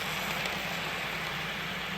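Model train running toward a tunnel on a layout, a faint steady motor hum and rolling rumble that holds evenly throughout, no voices.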